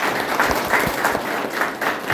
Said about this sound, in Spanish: Un aplauso a esa mujer.